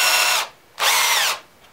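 A power drill countersinks a screw hole in a wooden frame, whirring in two short high-pitched bursts separated by a brief pause, close and loud.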